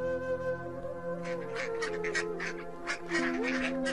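Cartoon ducks quack near a village pond in a series of nasal calls over a sustained musical backing, fairly close and moderately loud.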